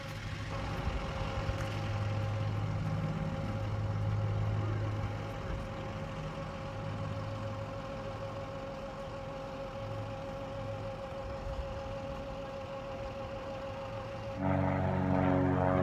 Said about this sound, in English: And that is the P51 Mustang. Rolls-Royce engine, donated by the British during World War II.